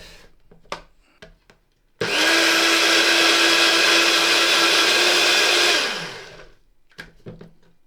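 Kitchen blender pureeing peaches with sugar, a loud steady whir for about four seconds that winds down at the end, with brief clatter before and after.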